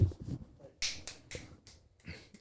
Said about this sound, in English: I start like snapping my fingers